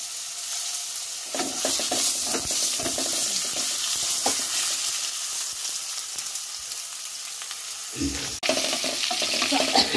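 Chopped tomato frying in hot oil in a pan after tempering, for a chital fish curry: a loud, even crackling sizzle with soft stirring scrapes, then a sudden louder burst of spitting near the end.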